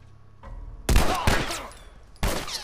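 Gunfire in the video game The Last of Us: a few sharp, loud shots in quick succession followed by one more blast after a short pause, close and dominant.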